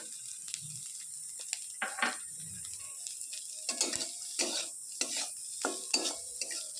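Grated carrot hissing as it drops into hot oil with popping mustard seeds, a steady sizzle broken by a run of close, sharp stirring scrapes against the pan.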